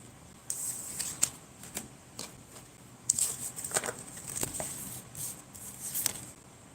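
Cards from tarot decks are drawn and handled, producing scattered crisp flicks and papery snaps. Some come alone and others in quick clusters, close by in a quiet room.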